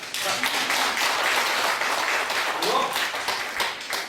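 Audience applause fills a hall at a history and culture conference on Korean Seondo training methods, a dense, steady wash of clapping lasting several seconds, with a few voices audible underneath.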